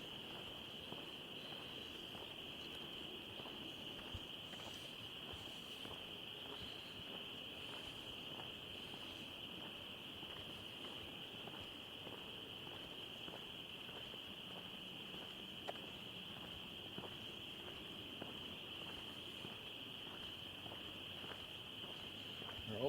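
Frogs call at night from the trail edge in a dense, continuous high-pitched chorus that sounds like insects, faint and steady, with soft footsteps and movement underneath.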